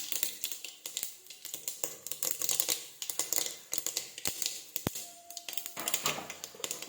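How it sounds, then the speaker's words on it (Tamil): Dried red chillies and mustard seeds crackle and spit in hot oil, a dense, busy stream of sharp pops and sizzle that stays loud and close throughout. "இப்போ வரமிளகாவை இதுக்குள்ள சேர்த்துடலாம்."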